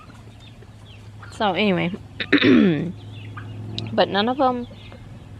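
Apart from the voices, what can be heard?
hens clucking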